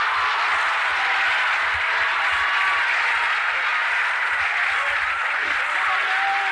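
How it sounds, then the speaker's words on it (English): Steady, dense applause from a large audience, continuous and loud throughout with no break or voices standing out. "Somebody clap your hands."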